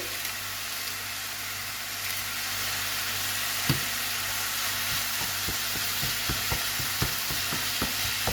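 Meat browns in a pan with a little pepper for hachis parmentier, giving a steady, close sizzle throughout, joined in the second half by a run of sharp knocks from stirring against the pan.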